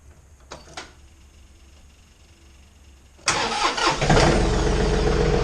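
A John Deere Z920m zero-turn mower's engine is cranked, catches, and roars up to a loud steady run, preceded by a few light clicks and a quiet stretch before the start.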